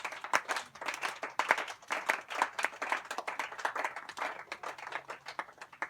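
A church congregation applauds in praise of the Lord, with dense, steady clapping from many hands that swells and holds for several seconds, fairly close and lively, with no talk over it.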